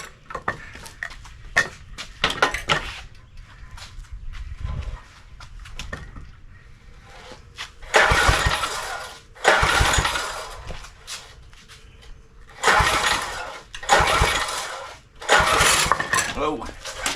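Small tiller engine with a bad spark plug, repaired, starting and then running in rough, loud bursts that surge and fade over several seconds after clanks and handling noises, close up, with people talking at times.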